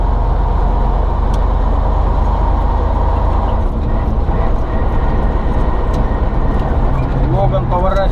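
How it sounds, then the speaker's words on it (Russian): A Ural truck rumbles past at close range on a town street, its loud, steady engine and road noise filling the scene, with a passing whoosh building toward the end. "Урал едет, тормозов вдруг нету."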